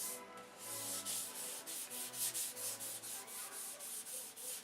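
Hand sanding with 600-grit sandpaper makes quiet, rhythmic back-and-forth rubbing strokes, roughly four or five per second, heard close up with no talk.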